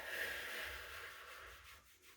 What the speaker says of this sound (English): Closing your eyes, you're going to rub the lower ribs and your stomach